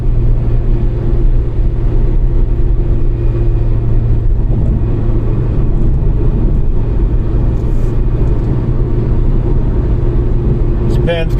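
A Honda Integra Type R DC5 driven on Japanese roads at night, its engine a steady, loud, continuous drone from inside the car, with road rumble underneath.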